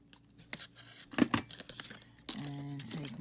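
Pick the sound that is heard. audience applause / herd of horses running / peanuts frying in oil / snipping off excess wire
snipping off excess wire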